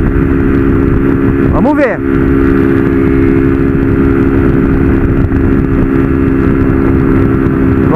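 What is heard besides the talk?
160 motorcycle engine with modified camshaft riding on highway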